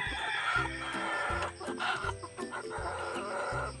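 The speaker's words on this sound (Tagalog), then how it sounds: "puntahan ko muna yung manok na kakatayin" Chickens cluck and squawk nearby on a farm over a busy, noisy background, with short calls overlapping throughout.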